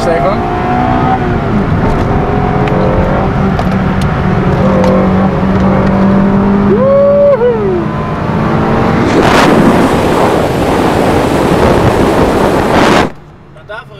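A car engine roars and revs hard, pitch climbing, with voices talking over it, then a loud burst of acceleration before cutting off abruptly.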